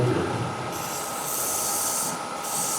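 Continuous raspy rubbing of 400 grit sandpaper against turned wood, a steady close hiss with brief shifts in pressure.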